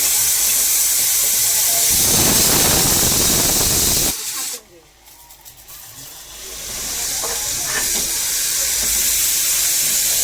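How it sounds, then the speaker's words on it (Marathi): A tempering sizzles loudly in hot ghee and oil for a Konkani-style vajri and paya soup, a steady hiss that drops away briefly midway, then returns and continues near and strong. "त्याच्यामध्ये असं फोडणीला टाकून देऊ, व्यवस्थित परतून घेऊ."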